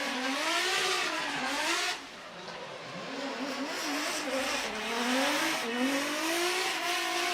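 Yusuke Kusaba's Team Cusco Racing drift car number 77 at Formula Drift Japan roars through a run, the engine revving up and down in loud wavering pitch with tire noise, a brief dip before climbing again.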